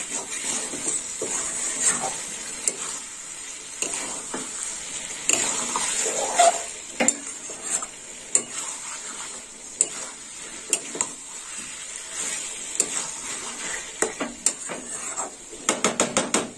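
Prawns sautéed for a Bengali chingri chorchori, stirred steadily in a pan: a continuous bright sizzle with repeated scraping strokes and occasional sharper clicks of the spatula, fairly close and with no talking.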